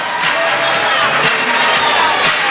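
Dense, steady roar of a 6,000–7,000-strong arena crowd at the Meadowlands during halftime of the 1985 boys Group 4 state basketball championship between Elizabeth and Camden, with cheerleaders performing, scattered shouts and bursts of cheering rising throughout.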